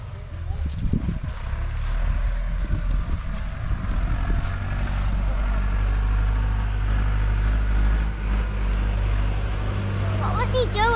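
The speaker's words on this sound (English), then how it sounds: "There's the engine, air-cooled engine in the back there." An air-cooled diesel engine on a four-wheel-drive Massey Ferguson 397 tractor, used for baling hay, idles with a steady low drone close by, with people talking faintly over it.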